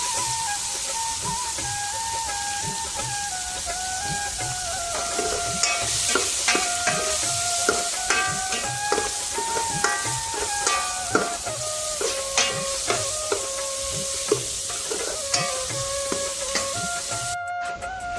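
Onion fries in a pan until browning, a continuous close sizzle broken by frequent clattering stirs and scrapes of a utensil against the pan, with no talking.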